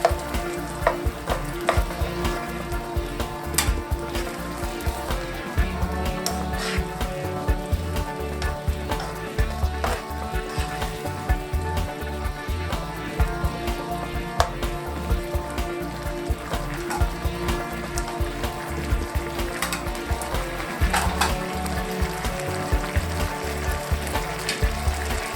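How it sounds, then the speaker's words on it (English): Ginger beef sauce thickened with soy sauce simmers in a pan, giving a steady, close sizzle and fine crackle that continues evenly for the whole stretch with no talking. "Let it simmer for about 2 minutes till it thickens."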